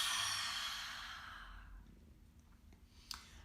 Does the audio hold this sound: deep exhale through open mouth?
yes